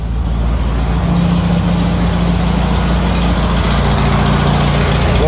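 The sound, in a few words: Volkswagen engine starting and idling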